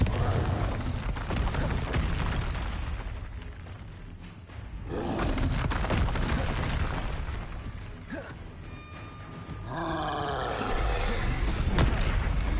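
Confringo spell blasts in the game Hogwarts Legacy, a series of loud booming explosions and roaring rumbles separated by brief lulls, with whooshing magic effects and faint tonal chimes.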